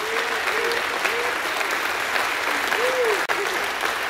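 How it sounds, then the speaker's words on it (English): Congregation in a church clapping their hands together in a steady, sustained round of applause, with a voice talking or calling out through it and a brief sharp dropout near the end. "give him a hand clap"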